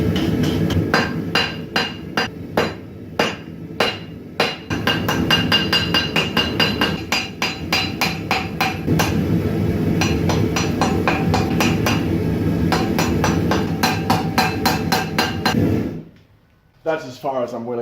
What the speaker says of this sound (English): I'm going to heat up this piece again, forge it flat.